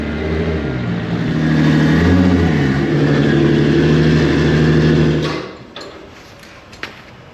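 An FD Pro drift car engine revs hard on a dyno with a loud, sustained roar that rises and falls in pitch, then cuts off abruptly, leaving a few faint clanks.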